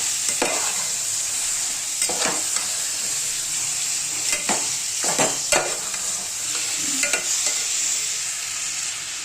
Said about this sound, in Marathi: आणि आता ह्याच्यामध्ये ना हे चिकन सोडायचं आणि हे चांगलं हलवून घ्यायचं.